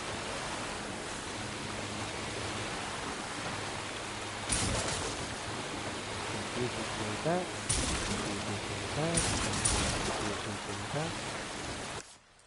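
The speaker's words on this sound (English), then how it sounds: "Oh, it's raining right now?" Steady broadband rain hiss from the game Resident Evil 4 Remake, continuous throughout with a few brief louder bursts of in-game sound layered over it, no talking.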